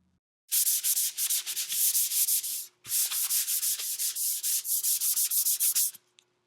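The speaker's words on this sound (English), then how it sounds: "The second piece gets light sanding." A piece of plywood is sanded lightly by hand in quick, rhythmic back-and-forth strokes, close and scratchy, in two bursts split by a short pause, with a faint steady hum underneath and no talking.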